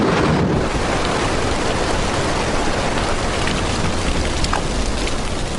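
Torrential rain pours steadily on a World War II battlefield on Okinawa, a dense, loud, unbroken hiss of falling water that holds at a constant level with no voices.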